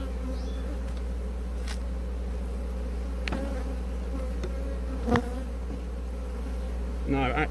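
Honeybees buzz in a steady, dense drone around a hive at an apiary, with occasional louder passes of individual bees close by and no talk.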